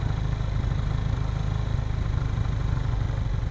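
A TVS Victor motorcycle engine idles steadily after a carburettor adjustment, a close, constant low rumble with an even, fast pulse and no voices.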